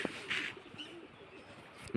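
Pigeons just freed from a net give short, soft coos and a brief higher chirp, close by but faint, within a quiet two-second stretch.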